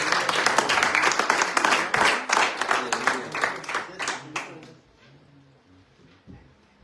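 A church congregation claps together in a loud, dense burst during a Good Friday Seven Words service, then the clapping thins and fades out over the last seconds, leaving near quiet.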